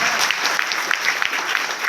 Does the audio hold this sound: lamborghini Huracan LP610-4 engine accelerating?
no